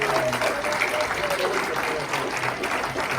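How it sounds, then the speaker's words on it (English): Applause from an audience at a hall of fame induction welcomes Starfire to the stage, a continuous patter of clapping with voices mixed in. "give a nice round of applause for Starfire"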